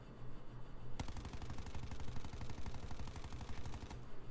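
An MX9 submachine gun fires in Call of Duty: Black Ops 4, one sustained burst of rapid automatic shots lasting about three seconds, close and loud, after a second of quiet game ambience.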